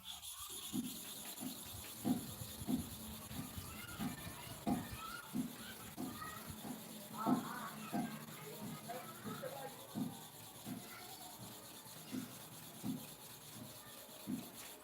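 A hair clipper blade is sharpened by rubbing it to and fro on a surface, giving a steady series of short, soft scraping strokes at an even rhythm, with someone talking quietly over parts of it.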